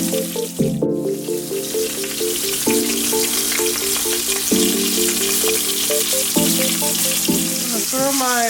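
Meat searing in a hot pan, a continuous loud sizzle and crackle of frying under a steady tonal hum of music, with no speech.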